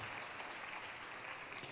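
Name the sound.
church congregation applauding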